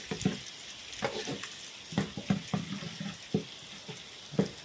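Egg is stir-fried with pork belly and noodles in a pan: a steady close sizzle with irregular scraping and clacking strokes from the stirring, and no one talking.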